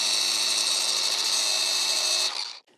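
Flap disc on a grinder sharpening a zero turn mower blade, a loud steady high whine held for over two seconds before spinning down and cutting off abruptly.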